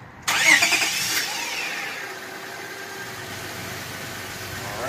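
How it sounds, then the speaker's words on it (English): A 2003 Honda Accord V6 cranks and fires after an oil change, a sharp start followed by a rev that settles into a steady, even idle, close by with no talk. "So now we're just gonna cap it again and start up and let it idle 10 to 15 minutes"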